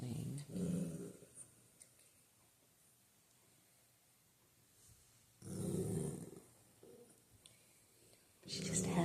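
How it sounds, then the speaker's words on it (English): A Maltese puppy growls in low, rumbling bursts during a newborn chiropractic adjustment, with quiet stretches between the bouts and soft human voices faintly in the background. "Starts to settle and then, oh no, I gotta growl again."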